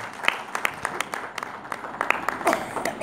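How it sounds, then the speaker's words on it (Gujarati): An audience applauds at a Gujarati ghazal recital, scattered hand claps spread unevenly across the moment at moderate loudness, with a voice faintly under them. "ખૂબ તાળીઓ એમના ઉત્તમ સંચાલન માટે હોવી જોઈએ."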